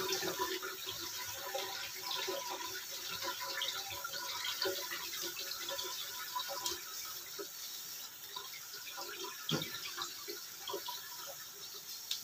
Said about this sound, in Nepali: यसलाई तुरुन्तै चिसो पानीले भिजाइहाल्नुपर्छ, नत्र भने यो लट्टमा जोडिन्छ।